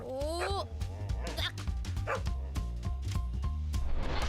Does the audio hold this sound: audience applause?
no